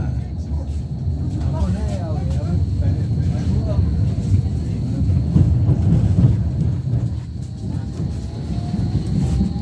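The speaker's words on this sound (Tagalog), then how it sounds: "May train din sa kabila." A train passes outside a crowded Berlin tram, a low rumbling roar that stays steady and swells slightly in the middle, with voices murmuring underneath.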